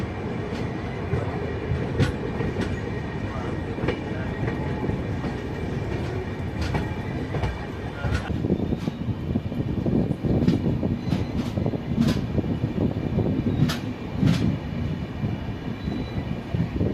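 The Puducherry–Yesvantpur Express rolls along with a continuous loud rumble and rhythmic clickety-clack of wheels over rail joints, heard from inside the carriage with periodic sharp clicks.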